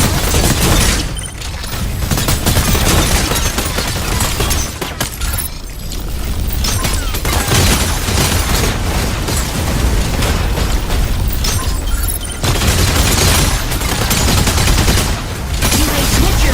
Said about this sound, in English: Attack with energy autocannon.